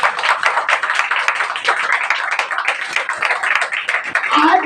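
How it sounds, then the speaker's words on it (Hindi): A church congregation claps loudly and steadily, a dense rapid patter of many hands filling the room throughout, with faint voices mixed in. "जोर से ताली बजाओ उसके लिए"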